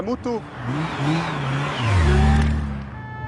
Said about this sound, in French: une Ducati Mostro blanche, une moto blanche, 185, 190 km/h